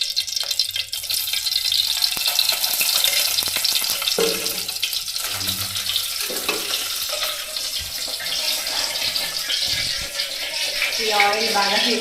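Cumin seeds, mustard seeds and curry leaves crackle and fry in hot oil for a village-style dried fish curry, a steady broadband sizzle throughout with a few sharper pops and clatters near the end.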